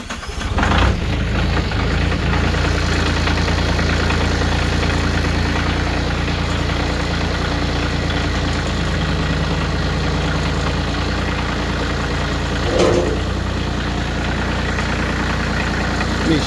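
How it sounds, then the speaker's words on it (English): Diesel engine on a New Holland loader cranks and catches at the start, then settles into a loud, steady rumbling idle with a brief rev or clunk near the end, close up and without speech. "fire it up and lift the loader up"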